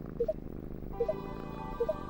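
A cat purrs in a Sega Saturn video game, a short looping rumble with small repeating chirping blips about every second, close and fairly loud.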